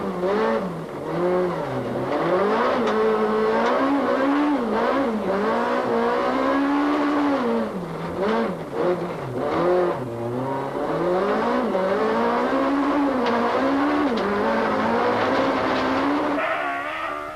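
A Volkswagen Golf race car with a German-built Volkswagen Racing shell runs at the Tour Natal 2004, its engine loud and close, rising and falling continuously as it revs hard through the gears.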